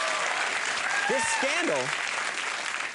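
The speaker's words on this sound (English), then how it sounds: "Those are powerful claps tonight from the crowd." Late-night television studio crowd clapping loudly throughout, dense and steady, with a voice talking over it.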